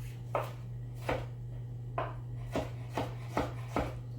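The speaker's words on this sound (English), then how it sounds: "I'm just cutting them in half." A knife chops vegetables in half on a cutting board for ratatouille pasta, seven distinct thuds at an irregular, unhurried pace over a steady low hum.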